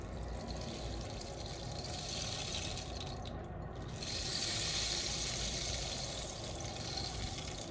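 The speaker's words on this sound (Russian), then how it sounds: "У меня есть вот такой вот шум дождя." A rain-sound toy instrument for a baby gives off a continuous soft hiss and patter like falling rain, with a brief break before the shower resumes a little louder. Nobody speaks.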